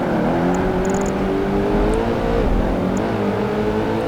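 Koenigsegg supercar engine in Project Gotham Racing 2, a loud, continuous high-revving drone with pitch rising and dipping through gear changes and cornering, close and alone with no talk.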